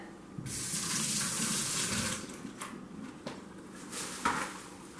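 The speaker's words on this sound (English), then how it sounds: "I'm just gonna wash my finger." Tap water runs steadily from a faucet into a sink as a finger is rinsed while baking brownies, a continuous close splashing stream with brief shifts in flow.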